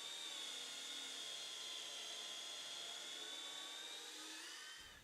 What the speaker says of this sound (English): I'll drill some holes with a countersink bit.